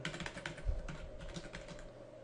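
Quiet, rapid typing on a computer keyboard while entering a username and password, a steady patter of soft key clicks under faint room hum.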